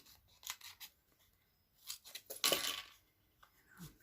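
Scissors snipping card-making pieces in half at close range, a few quiet, separate crisp cuts and rustles of paper scattered across a mostly hushed background, no talking.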